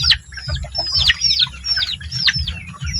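Chicks peep rapidly with high, repeated downward-sweeping chirps during feeding, loud and close, over a low rumbling background.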